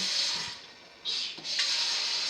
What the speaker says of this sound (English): this metal pan here, we're just gonna put a few inches of water in it